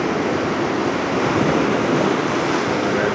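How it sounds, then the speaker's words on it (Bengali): Sea waves breaking at high tide on Mandarmani beach, a continuous loud wash of surf with wind noise on the microphone and no pauses. "এই যে পুরো জোয়ার এখন, সেই জন্য এখন নামা যাবে না। এই যে এখানেই ঢেউ দিচ্ছে"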